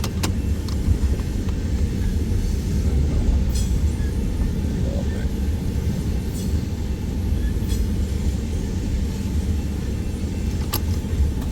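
A BNSF freight train rolls past near a siding in the Nebraska and Iowa area, a continuous heavy low rumble with faint rattles and occasional squeaks, steady throughout and without voices.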